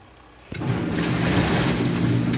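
Water churns steadily in a Costway twin tub portable washer mid-wash, a dense continuous swirling rush that begins abruptly and holds constant.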